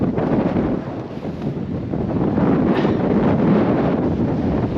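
Steady wind blowing by a riverside path along the River Douglas, buffeting the microphone with continuous low rumbling gusts that swell slightly toward the end, with no voices.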